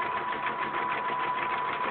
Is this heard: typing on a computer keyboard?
no